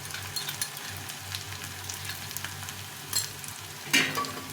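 Ginger, cumin and chili paste fries in a pan with a soft, continuous sizzle, close and fairly quiet, broken by a couple of stirring clinks and scrapes toward the end.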